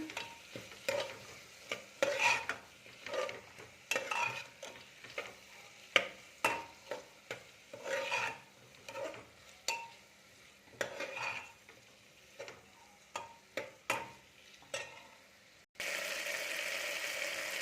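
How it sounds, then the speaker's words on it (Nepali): Potatoes frying in a pan for a chickpea and potato dish, a soft sizzle under repeated scraping stirs in an irregular rhythm, ending in a louder steady hiss. "अब आलुलाई एकछिन भुटिदिनु।"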